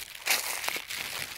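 A plastic bag holding freshly gathered dry forest moss crinkles in a short rustling burst, close to the mic, with a couple of softer crackles after.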